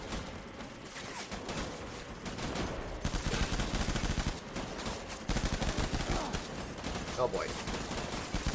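Rapid gunfire in Death Stranding, dense bursts of machine-gun style shots fired repeatedly in a long volley, with someone briefly talking over the shooting.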